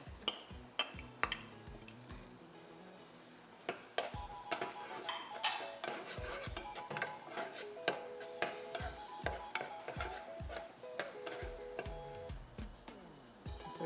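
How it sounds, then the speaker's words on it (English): Utensils clink and scrape against a pan as vegetables are stirred while sautéing, with quiet, intermittent taps and knocks at irregular intervals over a faint background. "So we'll saute for 3 minutes."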